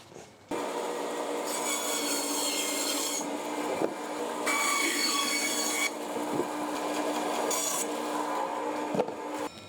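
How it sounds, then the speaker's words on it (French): A band saw cuts through wood in long, steady rasping passes, loud and close, with brief pauses between cuts. "Donc ça, on fait à la scie à ruban."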